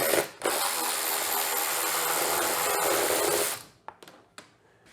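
An electric ratchet whirs continuously for several seconds, backing out a 10mm bolt on the fuel tank of a Yamaha TTR110 motorcycle, then stops, followed by a few sharp clicks and taps of handling metal parts.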